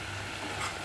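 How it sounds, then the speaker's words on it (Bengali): Sesame paste frying in oil in a pan is stirred in a brief, steady stretch of soft sizzle and scraping, with a louder clink at the very end and no voices. "এখন একটু নাড়াচাড়া করব কিছুক্ষণ"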